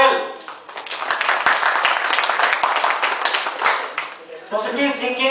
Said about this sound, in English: Let us clap for Mr. Goyal.